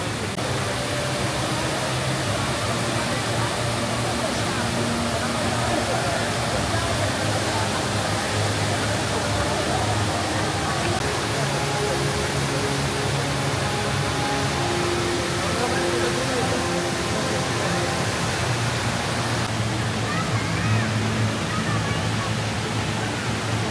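A broad, continuous rush of falling water from the HSBC Rain Vortex, an indoor waterfall at Singapore's airport, fills the space, loud and steady throughout, with a faint murmur of voices beneath.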